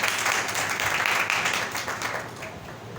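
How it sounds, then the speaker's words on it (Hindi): A church congregation claps loudly together, a dense wash of applause that rises and slowly tapers, with no voices over it. "जोरदार तालियां बजा देंगे खुदावंद के खुदावंद को।"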